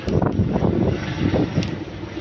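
Steady, loud wind buffets the microphone on a terrace garden with a rough, gusty rumble throughout, no voices heard.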